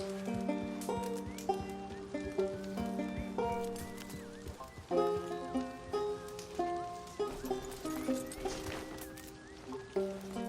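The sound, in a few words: horse approaching in video game Red Dead Online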